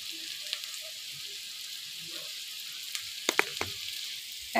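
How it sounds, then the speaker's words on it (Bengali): Dried chili and garlic fry in hot mustard oil with a steady, soft sizzle, then a few sharp clinks and pops from stirring near the end. "তারপর সরিষার তেল দিয়ে দিলাম। ভালোভাবে এটাকে ভেজে নেব যতক্ষণ পর্যন্ত সুন্দর কালার না আসছে।"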